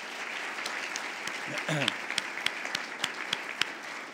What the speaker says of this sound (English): Pam, let's give these folks a round of applause.